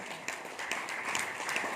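An indoor audience applauds in a dense, even patter of many hands clapping at moderate distance for the full stretch.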